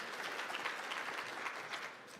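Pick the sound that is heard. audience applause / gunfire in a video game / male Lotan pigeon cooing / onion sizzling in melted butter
audience applause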